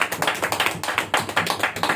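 A church congregation listening to a pastor's sermon claps loudly in a quick, steady rhythm, with many hands striking together in repeated pulses.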